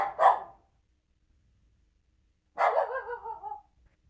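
A dog gives two close, clear barks in an otherwise quiet room: a short single woof, then after a pause a longer, whining bark that trails off.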